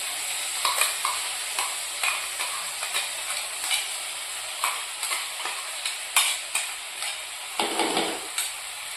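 Soft sizzling of coconut masala dry-roasting in a pan for chicken curry, with light scraping stirs and occasional clinks of a spoon, steady and close.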